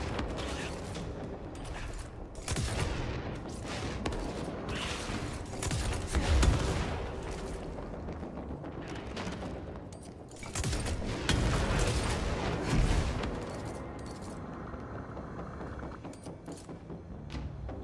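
Gunfire in the video game Control, with repeated bursts of shots and booms over a busy, noisy game soundscape, fairly steady across the whole stretch with louder flurries.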